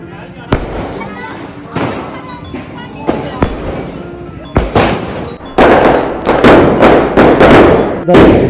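Loud firecrackers burst one after another during Diwali celebrations in a village, sharp bangs growing denser toward the end, with voices talking in between.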